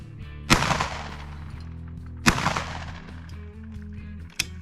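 Three loud shotgun blasts from a double-barrel gun firing test cartridges with biodegradable reversible wads, spaced irregularly, each with a sharp report and ringing decay against an outdoor hum.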